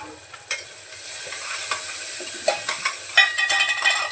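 Ground spices, including Kashmiri chilli powder, black masala and coriander powder, are sautéed quickly in a pan: a continuous near sizzle with rapid spatula scrapes and taps that grow busier toward the end.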